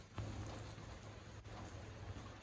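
Light rain falls outdoors as a soft, steady hiss, quiet and distant, with no voices.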